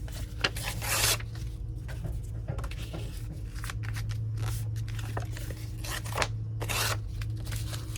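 Scissors trimming the edges off small scraps of embossed paper at a crafting table, several crisp snipping and rustling bursts spread across the stretch, close and moderately loud, with no talk.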